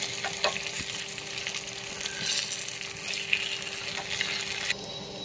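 Chopped garlic fries in hot oil for a dal tadka tempering alongside curry leaves and dry red chilli, giving a steady, moderately loud crackling sizzle with a few sharp pops, no voices.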